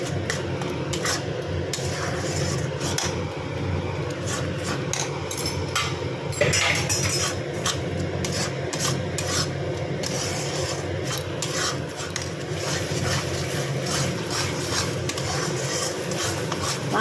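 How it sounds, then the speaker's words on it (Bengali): Mutton and spices are stirred and fried in a pot, giving a continuous scraping and rubbing of a spoon against the pan over steady sizzling. The sound is close and alone, with no voices. "এবার মাংস মশলা ভালো করে কষিয়ে নেবো মশলার সাথে।"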